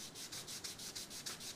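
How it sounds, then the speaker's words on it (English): Laser-cut wood is rubbed flat on sandpaper in quick, even back-and-forth strokes, with about ten soft rasping passes, faint and close. "I'm going to make sure everything is sanded flat."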